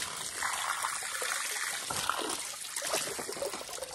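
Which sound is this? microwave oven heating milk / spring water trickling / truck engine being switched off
spring water trickling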